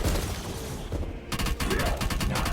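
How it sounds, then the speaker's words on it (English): Enemies in a video game fire lasers, a rapid series of sharp repeated zapping shots in a dense burst, loud and close, with a brief lull before the firing resumes. "they just like shooting crappy lasers at you"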